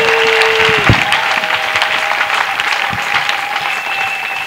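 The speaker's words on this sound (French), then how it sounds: "Clap offering to Jesus Christ." A church congregation claps as an offering to Jesus Christ, a loud, sustained crowd applause filling the room throughout, with a faint sustained tone running underneath.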